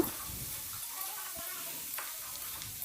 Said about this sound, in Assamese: এইখিনি মাহখিনি দি লৈ মই ভালদৰে লৰাই দিলোঁ